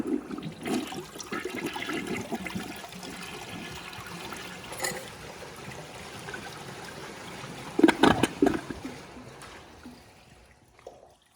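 A 2001 Gerber Aqua-Saver toilet flushing nearby, a strong rushing swirl of water that surges, gurgles loudly near the end and then trickles off into quiet.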